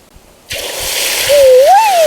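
Shrimp poured into hot frying oil, a sudden loud splash and crackling sizzle that starts abruptly and holds steady, with a voice speaking over it.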